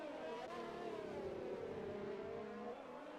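Alfa Romeo Formula 1 car in the F1 2020 racing game, engine note climbing and dropping as it runs through the gears, a continuous onboard whine at steady loudness.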